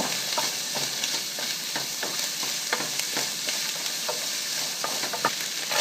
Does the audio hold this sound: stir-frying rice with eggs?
yes